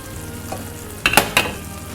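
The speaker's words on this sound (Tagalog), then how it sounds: "Pakuluan ko lang bagya bago ko ilagay yung mga gulay niya." Pork menudo bubbles and sizzles in a pan as it simmers before the vegetables go in, with a steady close frying hiss and a few brief stirring scrapes.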